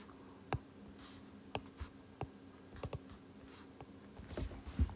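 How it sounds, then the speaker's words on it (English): Hand-written chemical formulas scratching and tapping on a surface: sparse, soft pen strokes and clicks spread out over a quiet background, close and faint with no talking. "first of all write the correct chemical formulas in the equation"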